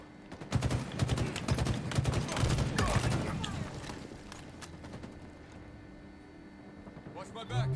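Rapid bursts of gunfire from Halo Infinite multiplayer, a plasma pistol and battle rifle combo, crackle loudly for the first few seconds and then fade into quieter game noise, with voices talking underneath.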